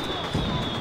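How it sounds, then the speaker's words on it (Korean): Bombs dropped from an airship onto an enemy turret in the strategy game DomiNations burst in a short, dense run of booming explosions, loud and close, with a faint steady tone running through. "폭탄 투하."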